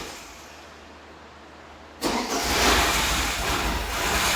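A Porsche 944 engine cranks and catches, jumping from near quiet to a loud, steady running roar that holds for a couple of seconds.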